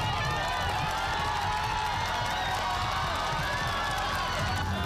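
A large crowd of student protesters outside the legislature cheers and shouts for a student leader, a steady, dense roar of many voices that stays loud and unbroken throughout.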